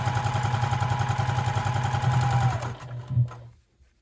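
A sewing machine stitching fabric runs in a fast, even mechanical rattle for nearly three seconds, then stops, leaving a few faint knocks and near silence.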